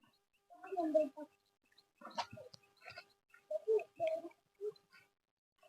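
Chickens and other birds call outdoors at a quiet rocky riverside spot, a series of clucks and calls in short bursts, moderately close and fairly faint.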